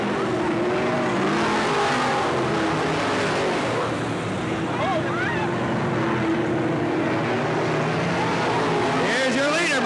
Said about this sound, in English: Womack, car number nine, just passed Wes Kelly, working his way up from the back of the pack